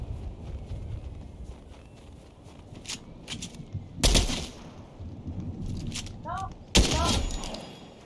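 Gunfire in the Fortnite video game: scattered sharp shots over game ambience, with two loud close blasts standing out, a quick burst of chirping game effects between them, and faint background chatter.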